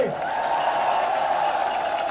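An audience applauds loudly for Ashutosh, introduced as Delhi's party in-charge; a continuous wash of clapping and crowd noise holds steady for about two seconds.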